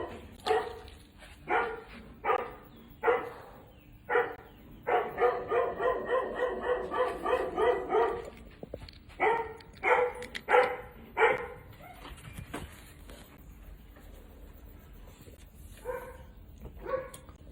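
Several dogs bark nearby in repeated bursts, with a fast run of rapid yips in the middle, then scattered barks tapering off against a quiet background.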